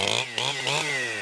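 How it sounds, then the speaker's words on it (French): Chainsaw cutting down 60-year-old cypress trees, heard as a loud, steady, close engine whine. "Quelques coups de tronçonneuse auront suffi pour abattre ces cyprès âgés de 60 ans."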